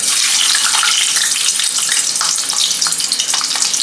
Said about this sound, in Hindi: तो एक डाल के देखती हूँ पहले कि तेल गरम हुआ है या नहीं